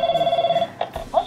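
A toy telephone in a Licca-chan dollhouse rings with a steady electronic warbling tone, followed by a few short clicks and handling noises, close and fairly loud.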